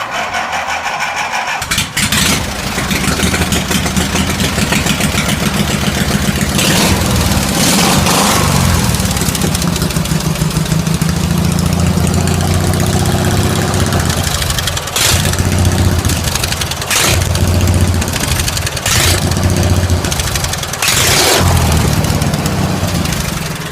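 Opposed twin engine on a lawn mower converted into a mud tractor, cranking and catching after a brief start, then running with a loud, steady throaty idle and occasional rev bursts, close up with no talking.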